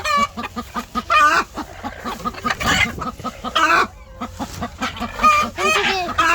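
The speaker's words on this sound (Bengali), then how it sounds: "তো এই মুরগিগুলো খাবার জন্য উত্তেজিত হয়েছে" Laying hens excited over food at midday cluck and squawk close by in quick, overlapping bursts, with several birds calling at once in an agitated, uneven rhythm.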